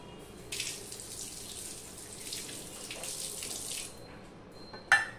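Tap water running while a bonti cutting blade is washed at a kitchen sink, a soft steady splashing stream that stops near the end, followed by a brief metallic clatter.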